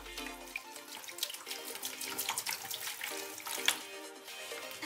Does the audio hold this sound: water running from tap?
yes